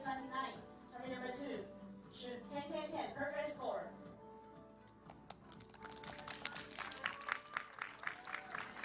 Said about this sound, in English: Applause, but nervy applause.